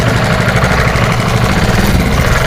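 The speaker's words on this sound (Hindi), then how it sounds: "गाड़ी सिंगल सेल्फ किक में स्टार्ट है," Gearless scooter engine idling steadily just after a self start, a close, continuous low mechanical hum with a faint regular throb and no speech.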